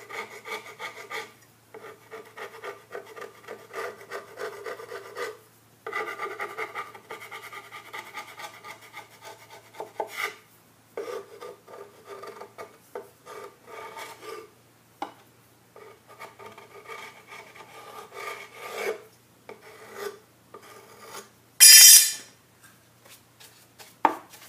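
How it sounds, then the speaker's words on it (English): Old paint scraped off a wooden dresser with a hand scraper, repeated gentle rasping strokes in short bursts with brief pauses between them, close and moderately quiet, with one sharp louder scrape near the end. "take a scraper, and I go ahead and I scrape that paint off, just gently."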